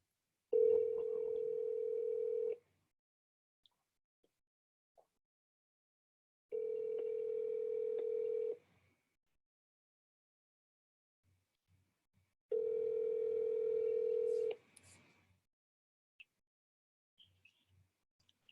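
A telephone ringback tone sounds in three long, even bursts about two seconds each, spaced by roughly four-second silences, clear and steady with faint clicks between.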